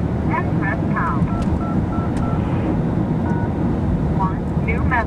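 Telephone keypad tones pressed to enter a voicemail passcode, several short beeps in quick clusters and single tones over loud wind and engine-like background rumble.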